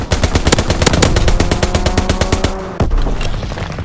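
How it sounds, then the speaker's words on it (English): Rapid machine-gun fire from an enemy aircraft strafing run in Call of Duty: WWII, a loud, dense rattle of bursts that runs for about two and a half seconds, breaks off with a sharp gap, then resumes more faintly. "Enemy strafing run incoming."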